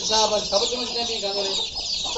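Desi hens and roosters clucking in a pen inside a city plot, a busy chorus of overlapping clucks close by while a person talks over them.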